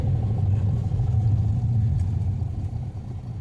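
A Ford EcoSport's engine runs in fifth gear, a steady low rumbling drone inside the car that eases slightly toward the end. The car has a gear-shifting problem. No one speaks.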